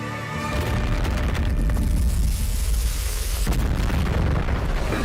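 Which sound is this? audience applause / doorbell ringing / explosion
explosion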